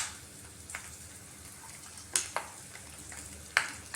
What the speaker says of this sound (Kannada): ಇದನ್ನು ಸ್ವಲ್ಪ ಚೆನ್ನಾಗಿ ಬಾಡಿಸ್ಕೊಳ್ಳೋಣ